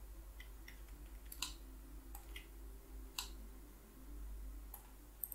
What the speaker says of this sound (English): hitting minus 5 on the keyboard